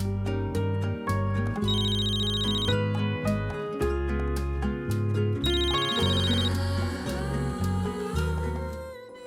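A telephone ringtone plays a loud melodic electronic tune with repeating tones, continuous and close.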